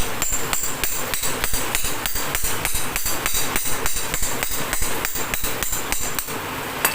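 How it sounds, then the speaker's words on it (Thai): A hammer pounds repeatedly at a quick, even pace, knocking an old bushing out of a 16-inch Hatari electric fan, each strike clanging over a constant noisy workshop background. "เราก็ต้อง ใช้ค้อนนะครับตีออกนะครับ"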